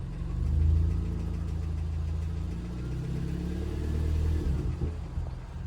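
A Suzuki Swift ZC32S engine running while driving, with a faint ticking fault: a steady low mechanical rumble from inside the car that swells and eases slightly, with no voices.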